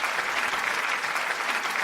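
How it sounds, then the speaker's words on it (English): A dense, sustained round of crowd applause holds at a steady level, a continuous wash of many hands clapping with no speech on top. "Everyone give a round of applause."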